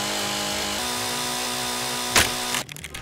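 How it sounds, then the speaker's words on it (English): A chainsaw cutting trees in the VR game Chop and Drop VR drones steadily and loudly, then a sharp burst and a shift to rougher, choppier sounds near the end, with no talking. "Take on the job of a line worker removing troublesome trees. Get out the chainsaw, move the bucket,"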